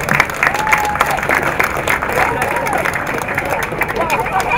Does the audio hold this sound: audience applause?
yes